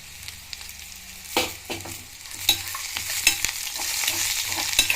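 Oil sizzles steadily with a tempering of spices and green chillies crackling and popping in the pan, with a few sharp stir-like scrapes; close and moderately loud, no voices.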